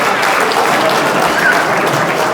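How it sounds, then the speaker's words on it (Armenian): A wedding audience claps in dense, loud applause that holds steady for a couple of seconds, sounding close and continuous. "Առաջինը ծափեր են տալիս հարսիկի կողմը։"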